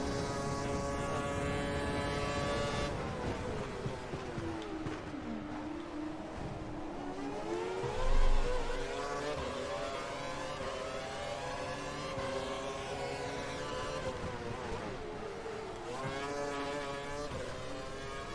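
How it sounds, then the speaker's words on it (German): Formula One car engines in the F1 2012 racing game at the Chinese Grand Prix, a steady high-pitched whine with shifting harmonics that rises and falls as cars pass, with one brief louder swell partway through. "Ich glaube, ich habe seinen Motor gerade gehört."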